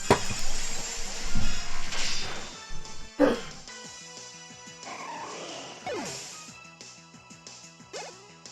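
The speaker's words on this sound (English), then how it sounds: "Very excitable Chihuahua." An excitable Chihuahua yips and barks in short bursts near a streamer indoors, mixed with a clatter and whimpering, while a person talks over parts of it.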